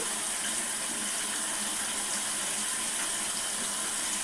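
Water from a tap runs steadily over a makeup brush being wetted at a sink, a constant close hiss and splash with no breaks and no voices.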